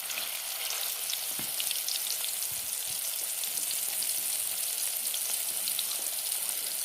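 Mangada fish fries in oil with a steady, bright sizzle and scattered crackling pops, continuous and close throughout, with no voices.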